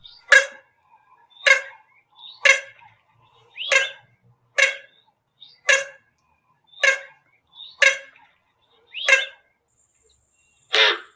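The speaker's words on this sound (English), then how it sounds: "I'm just going to try and play you the call of the coot" A series of ten short, sharp coot calls spaced about a second apart, each a bright clipped note ringing out clearly against a quiet background.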